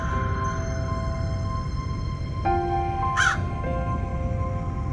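A thirsty crow gives a single short caw over steady background music tones, a brief cry standing out midway through.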